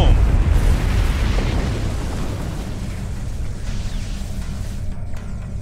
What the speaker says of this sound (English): Glorious explosion, probably from the Thalaron weapons carried aboard the ship